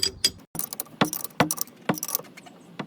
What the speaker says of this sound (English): 3/4 wrench on, and we tighten it down the rest of the way.